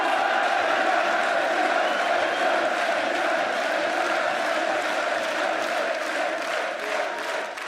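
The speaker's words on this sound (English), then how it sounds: "Thank you, everyone, for cheering for us." Esports audience at a 2015 League of Legends World Championship event in Paris, a dense, steady crowd roar with cheering and whoops sustained loudly throughout.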